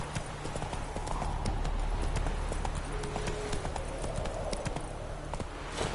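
A horse gallops in The Witcher 3, a steady rapid clip-clop of hooves that stays close and loud over a dense rushing background, with no voices.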